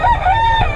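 Young gamecock stag crowing, a short, loud, close burst of a crow with a rising and falling tone, lasting under a second.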